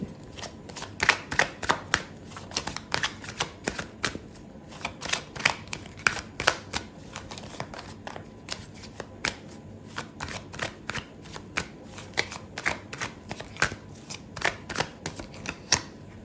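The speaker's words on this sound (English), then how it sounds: "I'm going to pull out another card for you" Tarot cards shuffled by hand up close: a long run of crisp riffling bursts and flicks in quick, uneven rhythm, with no talking.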